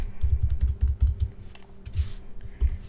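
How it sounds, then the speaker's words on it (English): Computer keyboard keys pressed in quick irregular bursts, a run of close, crisp clicks followed by a few scattered taps after a short pause. "Now I'm going to hit M on my keyboard"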